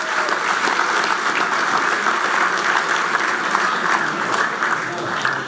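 Sustained audience applause at a golf association annual meeting, a thick, even wash of many people clapping at close range that holds steady throughout.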